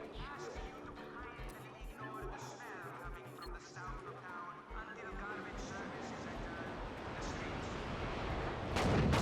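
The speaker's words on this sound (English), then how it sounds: "that's the airstrike gun." Airstrike gun in the Just Cause 3 video game firing, with a rapid series of heavy booming explosions and crashes building to a loud blast at the end.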